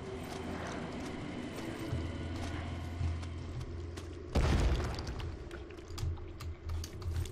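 BFG weapon blast in DOOM, Titan's Realm mission, a single heavy boom with a broad crackling burst standing out over a low rumbling game background and scattered clanks.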